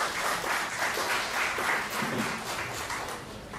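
An audience at a press conference gives a round of applause, steady but fairly quiet and distant-sounding, a continuous patter of many hands.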